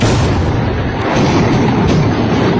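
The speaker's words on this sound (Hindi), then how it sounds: "यह बहावलपुर में एक के बाद एक 4 मिसाइल आकर गिरी हैं" Missiles striking and exploding in quick succession at Bahawalpur, a loud continuous roar of rumbling blasts and booms layered together without pause, with no speech.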